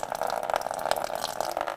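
Water running and gushing off tomato seeds as they drain, a continuous close splashing flow with slight bubbling and no voices.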